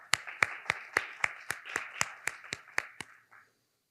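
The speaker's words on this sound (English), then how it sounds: "So maybe go the round of applause for the judges." A few people clap at a research presentation session to thank the judges: about a dozen evenly spaced, crisp claps in a steady rhythm, fairly close, then silence.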